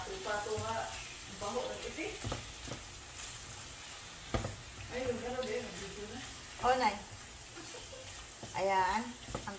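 Ground pork (giniling) sizzles and fries in a pan at home, a soft continuous crackle beneath near, frequent conversational voices speaking Filipino, with occasional clinks from the pan.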